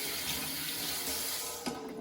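Water runs steadily from a tap into a sink during handwashing, a constant close splashing hiss with a brief thud near the end and no talking.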